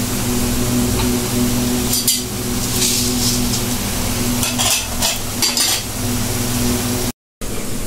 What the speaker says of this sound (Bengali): এই যে ফুপু এখন বেড়ে নিচ্ছে